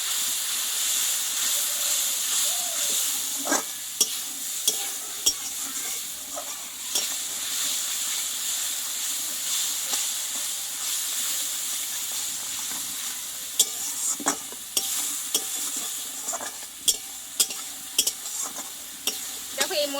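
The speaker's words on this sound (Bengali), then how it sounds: "এটা আমি দিয়ে দেব একটু ভালোভাবে একটু কষিয়ে নেব মশলাটাকে" A spice mix fries in a hot pan with a constant loud hissing sizzle, while scattered scraping and tapping strokes from stirring come through it at irregular intervals.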